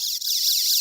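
A built-in alarm on a portable device sounds a loud, continuous high-pitched warbling electronic tone, steady and close throughout the brief moment.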